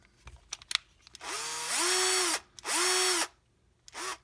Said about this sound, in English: wireless drill